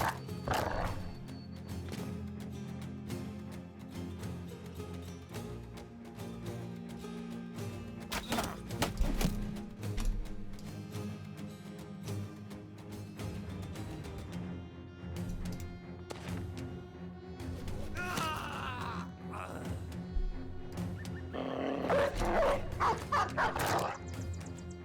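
War dogs barking in Battle Brothers, repeated yaps and barks mixed with horse neighs and hoofbeats over steady background music, growing busier near the end.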